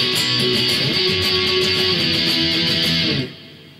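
Distorted electric guitar power chords from the verse of Blink-182's "Pathetic" on the Dude Ranch album, played loud and steady in a driving rhythm for about three seconds before cutting off.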